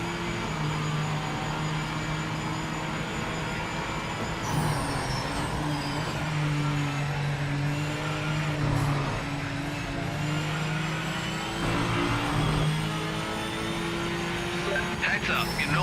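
Engine noise from racing cars in the Project Motor Racing video game, a steady droning whine with shifting pitch and the note of another car ahead blending in, while someone talks over it.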